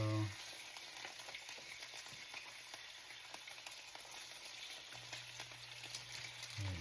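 Chicken pieces frying skin-down in hot oil for coq au vin blanc, a steady, dense sizzle with crackling pops throughout, close and continuous, with no voices.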